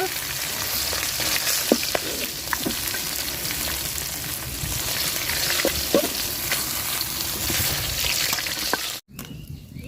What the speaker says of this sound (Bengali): তো মাছ কড়া করে ভাজা নিছি তুলে নিব